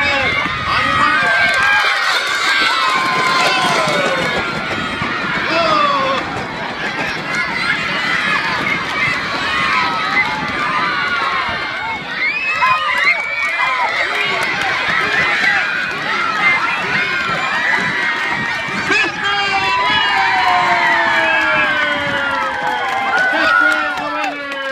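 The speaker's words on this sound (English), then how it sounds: "you better cheer loud for your team. Start cheering their name" A crowd at a homecoming pep rally egg race cheers and shouts loudly and continuously throughout, with mixed voices and scattered clapping filling the space.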